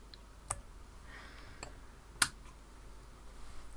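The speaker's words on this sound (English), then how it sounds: "I'm going to just trim the end pretty close to those knots" Scissors snip a thread end close to knots on a thread-wrapped bead button, giving a few sharp, quiet clicks spaced apart against near silence, with the crispest snip landing just past the midpoint.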